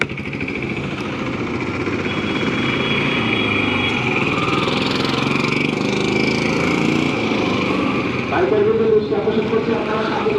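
A motorcycle engine runs steadily at an army checkpoint on the Khagrachari to Sajek road, a continuous mid-level rumble under people talking nearby, with a brief higher tone near the end.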